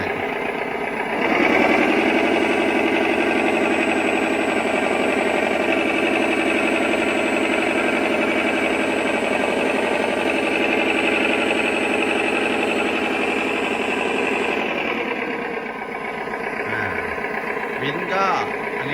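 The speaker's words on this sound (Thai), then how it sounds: "ยกน้ำก็เบิ้ลเครื่องได้" Steady electric whine of a 1:14 scale RC M35A2 6x6 dump truck's simulated engine revving, holding loud and even for over ten seconds before cutting off, with light handling noises afterward.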